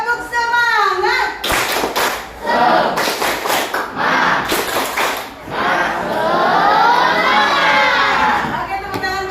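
Classroom of children doing a rhythmic spirit clap chant, bursts of clapping in patterned groups mixed with shouted chanting voices, loud and close, ending in a sustained group shout.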